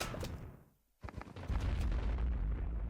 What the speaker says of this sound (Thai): เมื่อกี้อะไรทำไมระเบิดอ่ะ